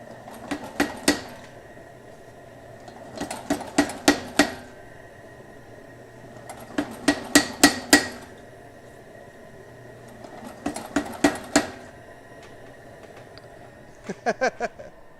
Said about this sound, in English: I'm forging an axe with the power hammer